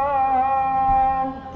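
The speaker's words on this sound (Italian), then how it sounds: "il canto del muezzin, eccolo lì il minareto verde" A muezzin's call to prayer drifts from a nearby mosque with a green minaret on a busy street, a single sustained melismatic voice held steady and fairly clear over faint street noise.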